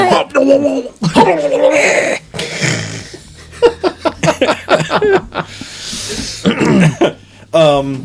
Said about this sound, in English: It's because you're coughing.